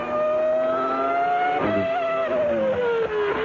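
A Formula 1 car on its formation lap at the 1997 Brazilian Grand Prix at Interlagos drones steadily at high engine pitch, the tone sliding gently as it passes, with a continuous loud roar and no commentary over it.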